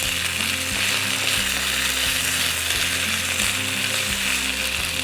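Potatoes fry steadily in a pan with a continuous close sizzle, accompanied by a regular mechanical hum or rattle underneath; no one speaks.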